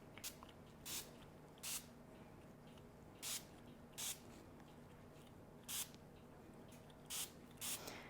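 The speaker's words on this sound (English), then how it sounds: "Filtered water from the Berkey that I'm spraying on these" A spray bottle mists filtered water onto homemade crackers in short, sharp hissing bursts, about nine spaced puffs over a soft, faint background.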